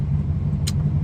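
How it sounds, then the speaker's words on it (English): Inside a car, a loud steady engine drone and road rumble fills the cabin continuously with no speech, a brief hiss cutting through midway. "this car is very loud"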